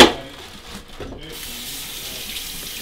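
Kitchen tap water runs steadily into a sink to rinse noodles for chow mein, a continuous close splashing stream after a brief initial burst.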